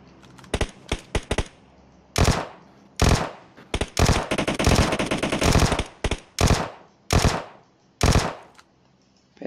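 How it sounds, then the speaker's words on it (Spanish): Bursts of automatic gunfire from a PUBG Mobile match, loud and close, with rapid clustered shots at first, then longer sustained volleys and a few separate rattling bursts, with no talking. "que atrás mío están disparando."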